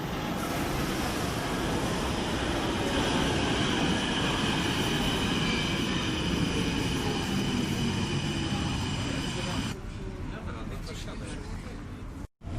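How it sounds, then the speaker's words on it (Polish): A Brussels metro train runs with a steady loud rumble and rolling wheel noise, a faint high squeal over the top, then shifts to a quieter hum near the end. "metro jest praktycznie puste"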